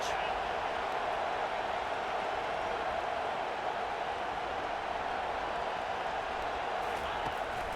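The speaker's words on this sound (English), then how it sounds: "this crowd is turning it up a notch" Stadium crowd in the video game College Football 25, a steady, dense roar of cheering and noise that fills the whole stretch without a break and sits loud and continuous in the background.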